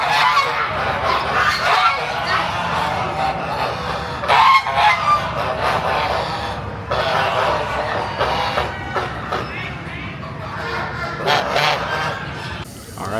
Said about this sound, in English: Oh man, look at these big loud geese.